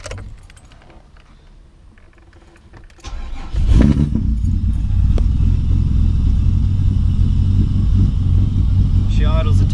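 A car with a manual gearbox filled with automatic transmission fluid cranks and catches at about three seconds, then settles into a loud, steady, slightly rough idle that runs to the end.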